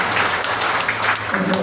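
Church congregation applauding during a sermon, a brief wash of dense clapping with a low hum and a voice starting at the end.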